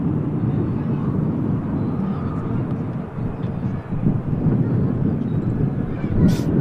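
A departing Boeing 777 at Manchester Airport gives a broad, continuous jet roar, steady and moderately loud, with an Emirates A380 lining up behind. People talk faintly underneath.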